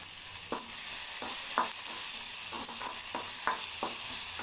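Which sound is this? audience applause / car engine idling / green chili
green chili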